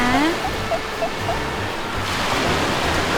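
Sea waves wash steadily onto a beach at Hua Hin, a broad continuous surf roar with faint whistle-like tones early on and no clear speech.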